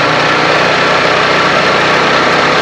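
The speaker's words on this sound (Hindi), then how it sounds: "यहाँ पर बाइक थोड़ा सा रेस हो गया।" A Honda motorcycle engine runs steadily at a low, even idle while its fuel mixture is being adjusted, a close, continuous mechanical hum with no clear rise or fall in revs.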